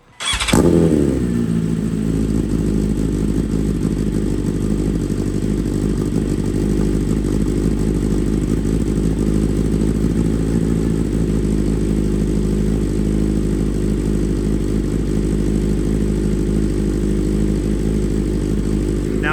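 A 2025 BMW S1000RR sport motorcycle engine fires up close by and then runs loud and steady with a deep, even rumble for the rest of the clip.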